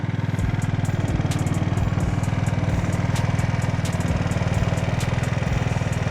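A Honda Spree or Motorino Riviera scooter's two-stroke engine idling after a carburetor mixture adjustment, with a close, steady, rapid putter and light rhythmic clatter, running alone without talk.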